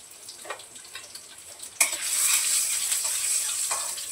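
Cumin and crushed garlic hit hot oil in a kadhai and burst into a loud, steady sizzle after a few quiet clinks, continuing close and bright without talk.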